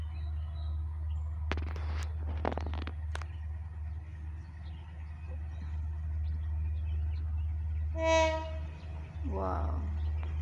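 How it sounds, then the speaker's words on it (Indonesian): A coal freight train in Indonesia approaches a station on a low, continuous rail rumble with a few scattered clanks, then sounds one short, loud, tonal horn blast near the end. "suara klaksonnya nyaring sekali"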